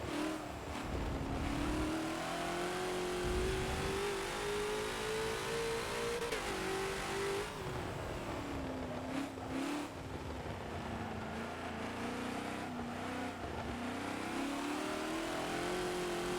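TNT GT40 race car engine in Forza at Mugello circuit, a loud continuous high-revving drone climbing and dropping through repeated upshifts, close and steady throughout.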